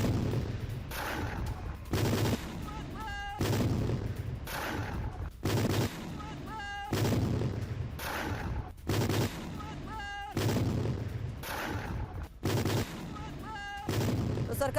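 Sustained gunfire on a Syrian front line at night, with bursts exchanged from both sides: repeated loud volleys come in clusters roughly every second or two, with short gaps between, and a steady rumble underneath.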